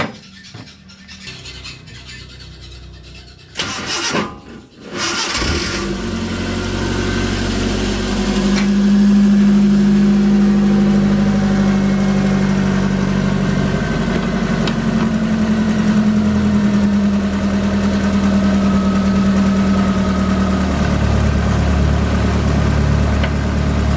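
A Suzuki Carry 1.0 injection engine idles steadily and close up after a few seconds of clunking and handling noise, its low hum holding even with a slight vibration throughout.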